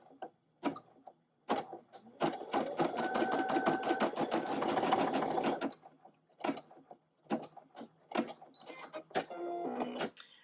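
An embroidery machine runs a satin stitch around the edge of a leaf design in fabric: a fast, steady mechanical whirring burst of close, even stitches, then shorter intermittent runs and clicks, with no talking.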